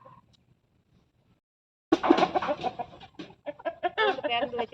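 Chickens, both hens and small chicks, coming in to roost for the evening, giving a burst of close, busy clucking and chattering that starts after a near-silent opening and continues to the end.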